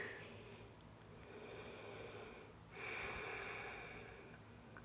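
Slow, deep breathing during a gentle beginners' yoga stretch, quiet and close: a long drawn breath, a short dip, then a fuller airy exhale over a steady low room hum.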